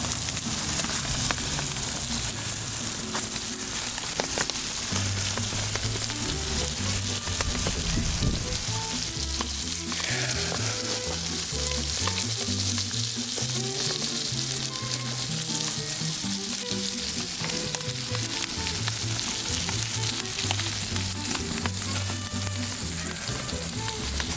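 Sausages, jalapeno poppers, ears of corn, chicken pieces, chorizos and beef back ribs sizzle over the open fire of a large eight-sided Santa Maria grill, a dense continuous hiss and crackle with scattered pops, close and steady throughout.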